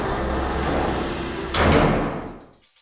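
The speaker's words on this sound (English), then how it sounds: "And he slammed the door shut." A door slams shut with a loud, sharp thud over a steady background hum, followed by a brief reverberant tail that fades to silence.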